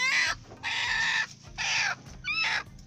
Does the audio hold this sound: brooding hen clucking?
yes